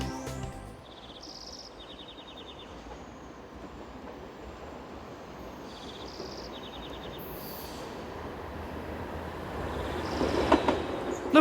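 BLS train on the Thun to Zweisimmen and Brig line, hauled by locomotive 235001, rumbling steadily along the track with repeated high warning chimes or signal tones, growing louder and rougher toward the end as it arrives.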